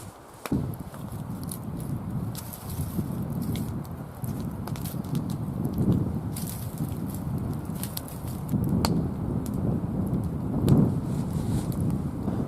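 Wind gusts steadily around a smoky outdoor campfire at a bushcraft camp, a broad continuous rumble that swells and eases in waves, with occasional crackles and faint birdsong far off.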